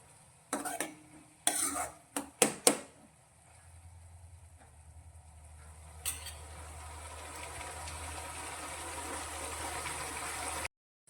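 Tomatoes and spices sautéing in a pan over a low gas flame for a drumstick vegetable curry: a few sharp spoon clanks against the pan at first, then a steady, soft sizzle that continues alone.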